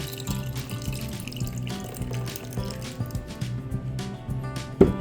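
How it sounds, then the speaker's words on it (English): A homemade Bluey-inspired drink is poured into a glass, a close, steady liquid splash running throughout with a louder slosh near the end. "Alright, let's pour that right in there."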